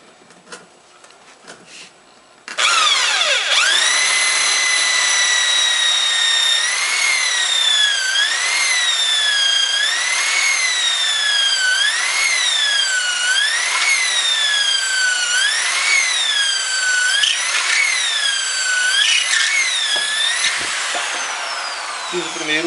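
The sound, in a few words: power drill drilling holes in tire planter structure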